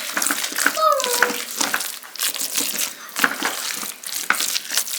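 Bacon gets stirred in a pan, with a soft crackle and scraping of the utensil through the frying fat, accompanied by brief voices and a short whistle-like sound early on.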